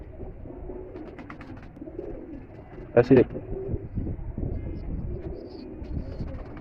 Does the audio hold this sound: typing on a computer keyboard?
no